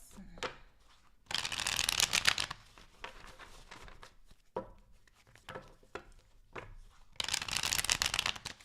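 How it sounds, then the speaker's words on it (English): Tarot cards being shuffled by hand in a few quick riffling bursts separated by quieter pauses and small handling sounds, close and fairly soft, with no talking. "Two more shuffles."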